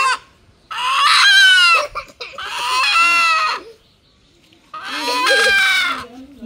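Chickens at a village home cluck and squawk in three loud, close bursts separated by short silences, each call harsh and rising.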